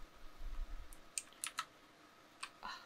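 Computer keyboard arrow keys pressed in a handful of separate, crisp clicks, fairly close and moderately quiet, spaced irregularly with a faint low rumble early on and no talking.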